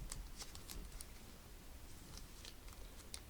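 A deck of Magic: The Gathering cards is shuffled by hand in quiet, soft riffles and light flicks that come in brief, irregular bursts.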